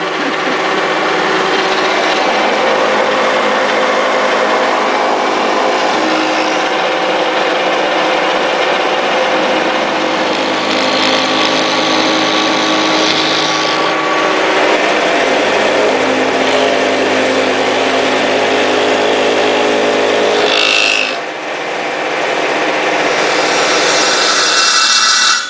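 A mortising machine runs steadily at a medieval festival crossbow workshop, giving a loud continuous whining mechanical drone that holds for the whole stretch with a brief dip near the end.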